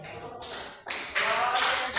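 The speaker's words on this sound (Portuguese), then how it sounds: "as palmas para Jesus." Church congregation clapping hands together during an evening worship service, a dense, steady burst of many palms that swells louder partway through, with faint voices mixed underneath.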